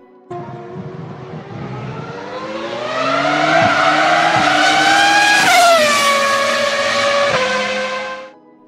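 A 2000s Formula 1 race car with a V10 or V12 engine screams past at very high revs, the pitch climbing then dropping sharply with gear shifts, loud and close with no talk.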